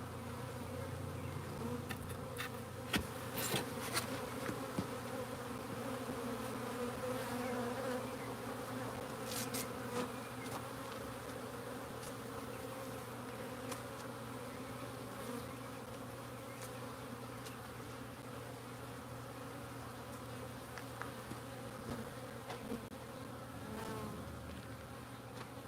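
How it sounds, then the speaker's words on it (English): Bees buzzing around a hive outdoors, a continuous low droning hum with individual insects passing near, quiet and steady throughout. "I'm trying to see if they'll join this hive."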